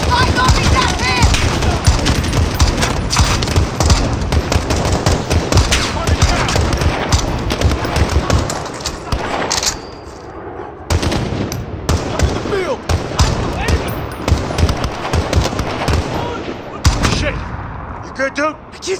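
Machine gun fire in a Call of Duty Modern Warfare campaign battle, dense rapid bursts and scattered shots almost nonstop with a short lull, mixed with shouted voices.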